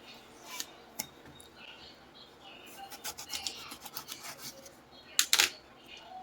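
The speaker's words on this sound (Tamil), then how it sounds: "இப்போ வெள்ளரி பழம் சீவியாச்சு. இதை ஸ்லைஸாக கட் பண்ணிக்கலாம்." A knife slicing through a peeled ripe cucumber, giving faint scraping cuts spread across a quiet kitchen, with a louder pair of close slices near the end.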